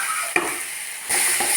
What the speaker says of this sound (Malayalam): ആ നെയ്യിലോട്ട് നമുക്ക് അരിഞ്ഞു വെച്ചിരിക്കുന്ന പഴം ചേർക്കാം